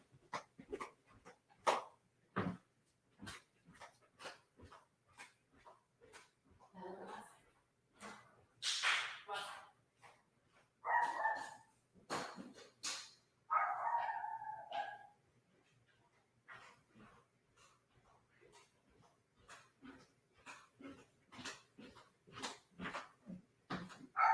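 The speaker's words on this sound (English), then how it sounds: "She's just barking into the air now." A dog barks outside, sharp yips and barks repeating in irregular bursts with a few whimpers between them. A person talks intermittently over the barking.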